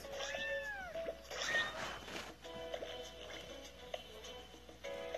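Repeated meows from a cat in the video game Cat Evolution, with several rising and falling calls close up over light game sounds and no talking.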